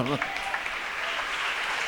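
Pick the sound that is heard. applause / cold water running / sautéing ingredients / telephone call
applause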